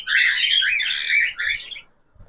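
Cockatiels chirp in a steady, busy run of close, bright calls for about two seconds before falling quiet, with a faint rustle at the end.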